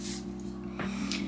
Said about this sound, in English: Spray that, and then with your brush,